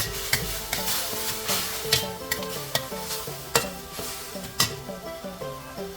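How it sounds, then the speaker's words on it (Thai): Sliced ginger and soy sauce stir-fried over high heat in a pan, a steady sizzle broken by repeated sharp scrapes and clacks of the spatula against the metal, close and loud with no talking. "แล้วเราก็เร่งไฟแรงผัดเขาให้หอมดีเลยค่ะ"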